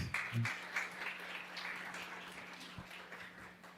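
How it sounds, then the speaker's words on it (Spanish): Applause from an audience, fairly quiet and steady, with a few distinct claps near the start and scattered hand claps continuing throughout. "Recibimos al señor Umaña con un fuerte aplauso."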